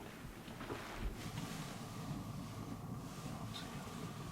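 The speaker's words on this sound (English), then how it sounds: "The winds are kind of high, but it is what it is." High wind blows outdoors on a hunt, a faint, steady rushing roar with low buffeting against the microphone and no voices.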